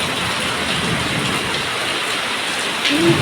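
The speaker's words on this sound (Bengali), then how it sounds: "বৃষ্টিটা হচ্ছে দেখো শুরু" Heavy rain pouring down with a constant broadband roar of drops on surfaces, close and loud, briefly swelling near the end.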